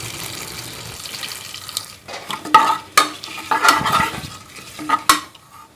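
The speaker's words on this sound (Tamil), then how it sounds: "இந்த எண்ணெய் நல்லா சூடானதுக்கப்புறம் பட்டை, கிராம்பு, ஏலக்காய் அந்த பாக்கெட் உள்ள எல்லாத்தையும் அப்படியே கொட்டி இதை நல்லா ஃப்ரை பண்ணிடுறோம்" Whole cinnamon, cloves and cardamom stirred in hot oil in a pan for a Tamil Nadu style beef tail gravy, with soft sizzling and several louder scraping stirs of a utensil against the pan, no talking.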